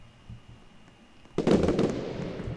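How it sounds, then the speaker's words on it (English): Fireworks in Roblox Lumber Tycoon 2 go off in a sudden loud burst of crackling pops that rumble on after a quiet start. "There's fireworks."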